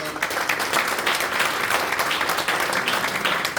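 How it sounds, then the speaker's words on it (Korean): Dense, sustained applause from an audience at a Christian federation New Year gathering held in a church in Ilsan, loud and continuous with many hands clapping together from start to finish. "격려의 박수를 또 감사의 박수를 쳐드리겠습니다"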